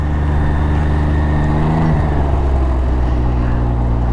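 A Can-Am Ryker three-wheeled motorcycle with a Baja Ron sway bar rides along the road, its engine a steady loud drone heard close up, with a brief shift in pitch partway through.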